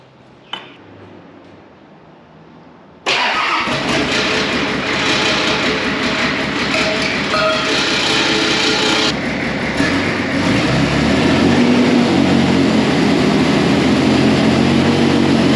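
A freshly fitted diesel engine in a Nissan GQ Patrol cranks briefly, then fires and runs with a loud, steady rumbling idle that stays close and even throughout.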